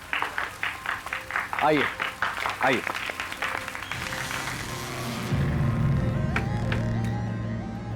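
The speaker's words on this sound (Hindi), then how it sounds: "जोरदार तालियां अजीत भंडारकर साहब के लिए" Audience at a magic show clapping, a dense burst of applause swelling in the second half while a voice talks over the start.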